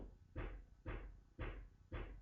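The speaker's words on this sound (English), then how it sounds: "That's the builders next door." Builders work next door, heard as four regular muffled thuds about half a second apart, faint and distant, with no voices.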